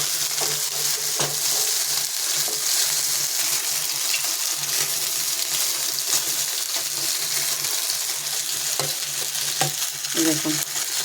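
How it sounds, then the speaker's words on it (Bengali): Fish pieces fry in shallow oil in a pan with a constant loud sizzle and crackle, and occasional clinks and scrapes come from turning them. "হয়েছে আমার মাছ ভাজাটা, এবার আমি একে একে তুলে নেব।"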